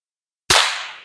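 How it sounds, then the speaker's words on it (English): A single Remington number 10 percussion cap on a cap and ball revolver goes off as one sharp, loud crack after a moment of silence, with a short hissing decay. "I'm going to fire off 3 Remington number 10 caps and record the results"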